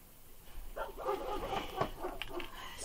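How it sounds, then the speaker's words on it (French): A dog next door barks and yips in short bursts, somewhat distant and muffled, a lone dog calling out repeatedly. "Ce pauvre chien à côté qui n'arrête pas d'aboyer à force d'être tout seul."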